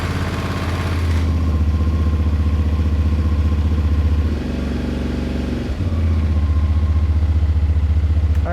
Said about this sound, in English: we just wanna go ahead and start the bike